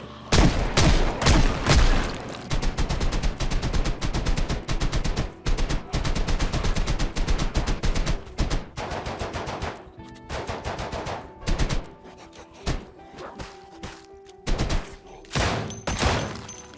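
Loud bursts of gunfire from Project Zomboid zombie-killing gameplay, rapid shots packed close together for the first half, then sparser separate shots with gaps, with no talk over them.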